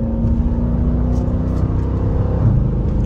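Dodge Durango R/T in track mode pulls hard under acceleration, a loud, close engine rumble running steadily with a brief shift change near the end, no voices present.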